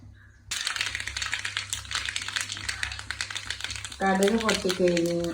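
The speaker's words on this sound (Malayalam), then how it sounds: "കടുക് പൊട്ടി കഴിയുമ്പോൾ" Mustard seeds crackle and pop rapidly in hot oil, a dense run of sharp little bursts; a voice joins near the end.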